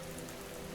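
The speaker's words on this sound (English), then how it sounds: "Outside, the rain continues falling." Rain falling outside makes a faint, even hiss of drops under a low steady hum, continuous and soft with no voices.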